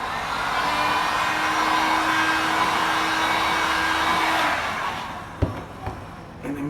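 A heat gun blows steadily while drying paint on a car scratch repair, a loud, broad airy roar with a faint tone that cuts off, followed by a few sharp clicks and handling knocks.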